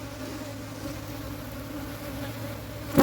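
Honey bees drone in a steady, dense buzz while a hive is split during a strong bluegum flow, with a brief knock or scrape near the end.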